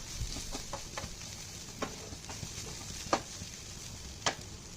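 Okra (ladies finger) sautéing with masala in a pan with little oil, a continuous soft sizzle broken by several sharp spatula scrapes and clicks spread across the stretch.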